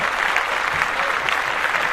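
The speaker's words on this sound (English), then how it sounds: "let's clap that up" Steady applause from a group, dense clapping that holds at an even level throughout.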